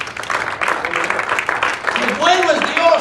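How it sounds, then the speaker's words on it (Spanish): Pentecostal church congregation clapping in a hall, a brief loud burst of many hands, then a voice speaks over the fading applause. "Demos un aplauso al Señor por él."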